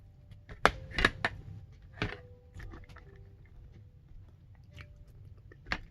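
Crunchy dried fish, boneless anchovies (dilis), being chewed during a meal with salad, giving a few sharp close crackly bites around the first two seconds and then softer, quieter chewing.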